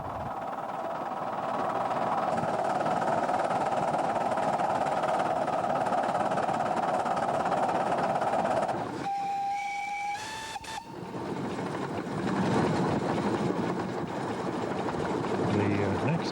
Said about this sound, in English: we pick up this locomotive southbound. It's brand new. That's a magnificent machine.